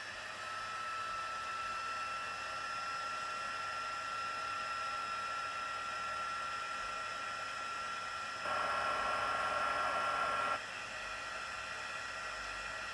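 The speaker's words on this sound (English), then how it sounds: "So I'm going to grab my heat tool, which is right here, and I'm just going to heat this" Heat embossing tool blowing hot air over a card, a steady whirring hiss with a faint high whine, rising louder for a couple of seconds near the end before settling back.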